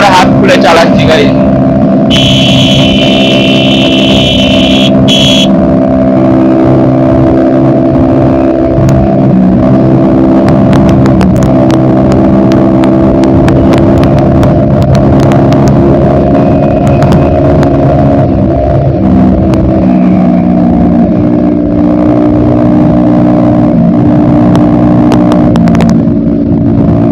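A TVS Ntorq scooter engine hums steadily during a night ride, with a loud, continuous motor drone and road noise throughout, briefly joined early on by a high electronic tone.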